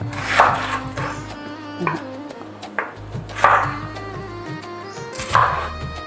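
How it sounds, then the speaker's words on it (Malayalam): A knife chops banana blossom into small pieces on a board: four sharp, separate thuds spaced a second or more apart, close and clear, with no talking. "നമുക്ക് ചെറിയ ചെറിയ പീസാക്കി കൊടുക്കാം"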